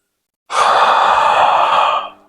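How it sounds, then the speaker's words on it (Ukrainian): A single long, loud breath exhaled close to the microphone during a back exercise, a breathy rush lasting about a second and a half before trailing off. "Вдих. Видих. Вдих. Видих."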